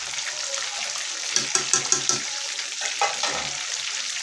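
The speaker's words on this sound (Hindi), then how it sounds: "अब ये अच्छे से फ्राई होगी इसमें, तेल क्योंकि उसके अंदर तक चला जाएगा" Fish sizzles in hot oil with a steady bright crackle and a few louder spits and pops up close.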